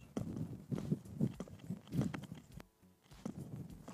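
Horse walking through a dressage schooling session, its hooves landing in a steady, close clip-clop rhythm on the arena footing, broken by a brief quiet gap before the steps resume.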